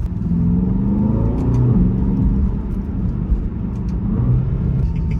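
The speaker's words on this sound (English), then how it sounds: "Oh, this car sounds awesome." A car engine rumbles steadily up close, its low drone rising in pitch as it revs and then easing back, with no voices over it.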